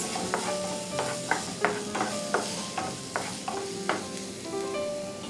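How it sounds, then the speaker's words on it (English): Finely chopped onions with a little garlic paste sizzle in hot oil over a medium flame, while a utensil scrapes and clacks against the pan in a steady, repeated stirring rhythm. "add finely chopped onions to it along with very little garlic paste. And saute this on a medium flame"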